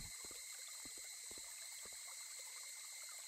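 Water trickling and flowing in the video game Satogaeri, a steady faint stream with soft dribbling ticks and drips throughout, alone with no talk.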